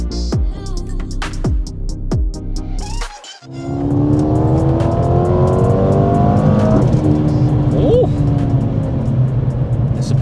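A Mercedes-AMG A35 with a dual-clutch gearbox revs hard and builds as it accelerates, a quick shift break in the middle, then a loud sustained pull with roaring exhaust.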